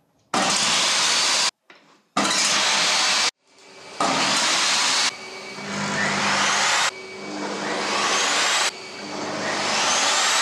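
A Rutlands table saw with no soft start kicks on abruptly at full, roaring loudness, switching on and off in several separate runs with short pauses between them.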